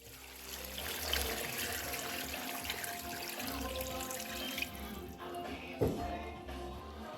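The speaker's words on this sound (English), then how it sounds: "To our stock pot, we're going to add water." Water runs from a tap into a stock pot for beef bone broth, a steady faint splashing trickle with a few clunks and a brief knock near the end, with no talking.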